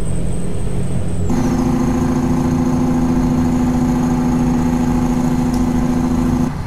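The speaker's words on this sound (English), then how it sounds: "the engine brake. Let's see what it sounds like." A Peterbilt 389 truck's engine brake in American Truck Simulator, a loud, steady droning rumble that kicks in abruptly after a second and holds constant to the end.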